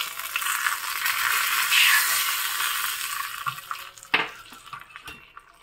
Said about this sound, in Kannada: ಕೊಬ್ಬರಿ ಎಣ್ಣೆ, ಸಾಸಿವೆ 1/4 ಚಮಚ, 3-4 ಕರಿಬೇವಿನ ಸೊಪ್ಪು, ಮತ್ತು ಸ್ವಲ್ಪ ಇಂಗು, ಮತ್ತು 1/2 ಒಣಮೆಣಸು ಹಾಕಿರೋ ಒಗ್ಗರಣೆ ಹಾಕ್ತಾ ಇದ್ದೀನಿ.